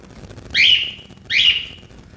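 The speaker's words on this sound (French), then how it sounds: "Et là, il y a ces petits oiseaux qui chantent." Two bright chirping bird calls ring out one after another, clear and fairly close, at an evening night market in Aumont-Aubrac, with a quiet murmur of background noise between them.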